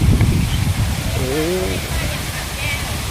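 A waterfall at a hillside temple in Saraburi, Thailand, gives off a steady, broad rushing of water throughout, while someone speaks briefly over it.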